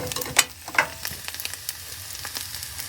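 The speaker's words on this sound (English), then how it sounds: "Cook this egg, and then I'll add the other chorizo left over from yesterday" An egg fries in a pan with a close, crackling sizzle and scattered pops, plus two sharper clinks early on, and no voices.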